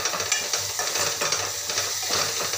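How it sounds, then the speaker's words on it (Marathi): Masala for chickpea curry sizzles in a pan as it is sautéed and stirred, with a steady hiss broken by regular scraping strokes of a spoon, close and fairly loud, with no talking. "आता छान मस्त असं एकजीव होईपर्यंत छान असं परतून घ्यायचं।"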